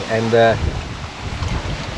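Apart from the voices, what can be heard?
strong wind at a lake camp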